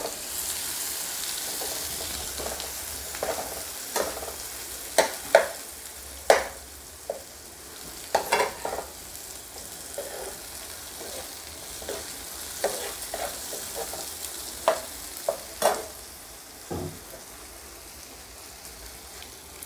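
Pav bhaji vegetables are stir-fried in a pan under a soft sizzle, with frequent irregular spatula clacks and scrapes spaced a second or so apart.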